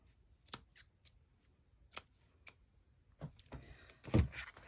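Scissors trim a paper craft tag with a few sharp, isolated snips close to the mic. A quick cluster of louder cutting and rustling sounds follows at the end.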